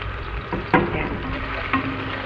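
Garlic frying in hot oil in a home kitchen, a steady close crackling sizzle with a couple of sharp spatula clinks against the pan, no voices over it.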